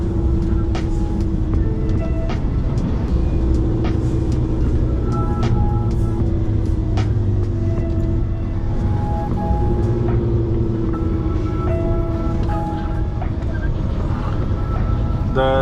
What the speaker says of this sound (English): That's the noisy thing in the background. It slows down the lorry.